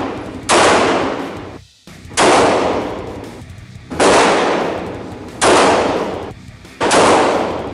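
Loud gunshots ring out at an indoor shooting range in the United States, five heavy booming reports spaced roughly a second and a half apart, each followed by a long echoing decay, with no talking.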